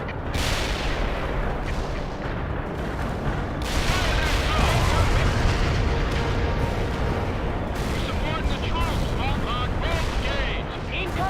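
Artillery fire in World in Conflict, heard as dense, continuous booms and rumbling explosions mixed with gunfire throughout. Voices talk over the battle noise.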